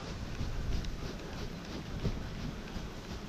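Wind gusting across the mic at a lakeside fishing spot, a steady broadband rumble and hiss with slight swells in strength, close and fairly faint throughout.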